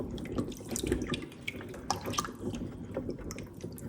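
Tap water running into a kitchen sink while food is rinsed under it, a steady splashing flow with uneven gurgles and spatters as the stream hits the food, fairly close, no talking.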